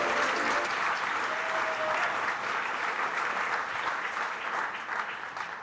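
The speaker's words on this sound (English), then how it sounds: "So please give yourselves a big round of applause." A large audience at an EcoCAR EV Challenge awards ceremony in San Diego claps in a strong, continuous wave of applause that holds steady before easing slightly at the end.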